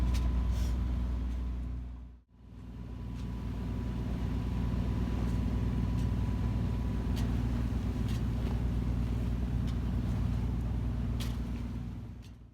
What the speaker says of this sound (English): we're not doing as much sailing, and a bit more motor sailing than I would like to be